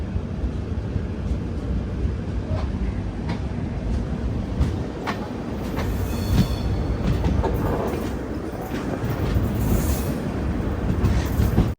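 Vivek Express passenger train from Kanniyakumari running on the rails, a steady loud rumble with rhythmic wheel clatter and faint squeals throughout, heard from on board, no talking.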